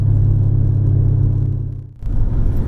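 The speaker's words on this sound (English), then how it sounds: "That's a really fast car." A loud, low engine rumble from a fast racing car, steady and close, dipping briefly before surging back.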